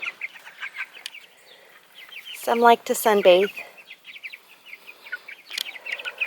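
Chickens in a chicken tractor cluck and chirp in scattered bursts close by, with a louder run of squawks in the middle, while a person talks briefly over them.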